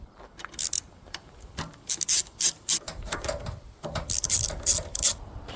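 Ratchet wrench loosening a 12 mm bolt on a 30-year-old Kawasaki VN800 Vulcan motorcycle, heard as bursts of rapid, close mechanical clicking separated by brief pauses.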